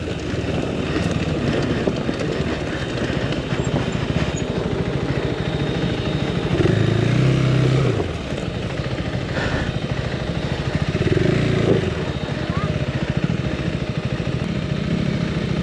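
A KTM 390 motorcycle rolls down a flight of stairs, its single-cylinder engine a steady low mid-distance putter with a couple of brief throttle blips, over faint outdoor wind.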